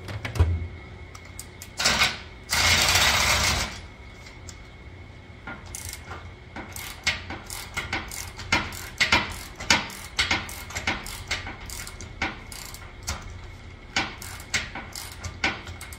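Ratcheting wrench work on a cam bolt while pulling the differential from a 1964 car, with rapid clicking pawl strokes in uneven bursts, a brief harsher scraping spell early on, close and moderately loud.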